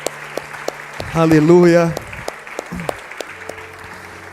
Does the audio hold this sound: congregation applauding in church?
yes